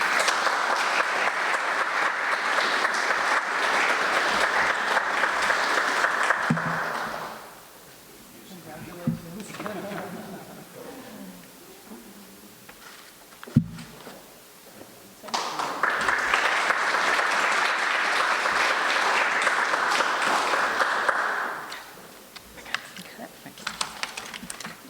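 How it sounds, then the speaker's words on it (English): An audience at a small business program awards ceremony gives two long bursts of applause, each lasting several seconds, separated by a quieter stretch with scattered sounds and a sharp knock. "One more round of applause for all of our award recipients this morning."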